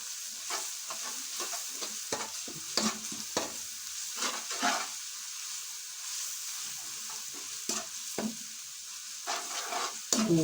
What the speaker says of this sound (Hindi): दो चम्मच हम लहसुन का पेस्ट शामिल कर रहे हैं।